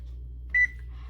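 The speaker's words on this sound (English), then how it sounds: "I'm going to start my oven." An oven's control panel gives a single short electronic beep as it is started, clear over a low steady hum in a quiet kitchen.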